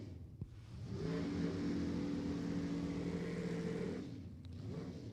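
A root-supercharged, gasoline-burning 306 cubic inch small-block engine in a double B altered drag car revs loudly at the track, holding a steady, rumbling roar for about three seconds before easing off.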